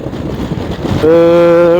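Wind buffeting a microphone on a Honda CB500X 2023 motorcycle ride on a windy day, a broad rumbling gust for about a second before a steady tonal engine drone takes over, loud and close.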